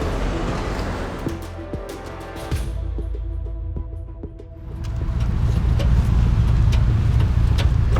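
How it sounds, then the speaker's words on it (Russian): A broken-down car being moved off on the roadside, its engine rumbling low and close, then growing louder and rougher as it pulls away, with faint traffic behind. "Давай я машину отгоню, Ром."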